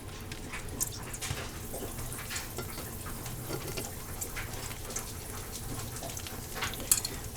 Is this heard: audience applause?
no